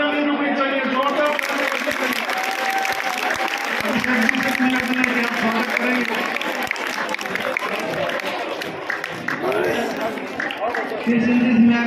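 A crowd at a girls' school function claps to welcome guests. The steady applause runs under someone speaking into a microphone throughout, and scattered crowd chatter sits in the background.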